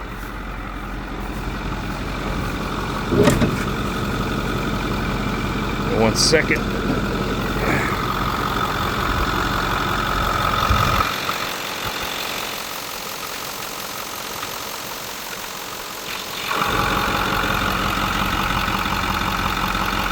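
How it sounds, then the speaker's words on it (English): A 2009 Ford F-550 Super Duty work truck's 6.6L diesel idles with a steady knocking clatter. Someone speaks briefly over the engine, and the running sound shifts and drops partway through before returning. "May not be able to hear me very well with the truck running."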